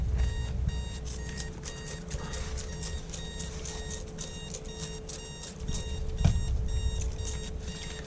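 A Timex alarm clock sitting in salt water beeps in rapid, evenly spaced bursts that continue throughout, moderately loud over a low background hum, with a brief thump near the end.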